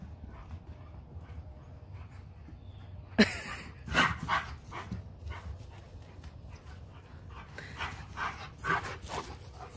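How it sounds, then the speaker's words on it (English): A dog pants and moves about outdoors in October snow, with quick breathy bursts and scuffling footfalls rising and falling over a low, steady background rumble. "My crazy dog."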